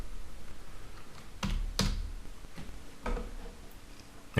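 Several keystrokes on a computer keyboard typing search text, with distinct close clicks spaced irregularly and a faint hum underneath, with no talk.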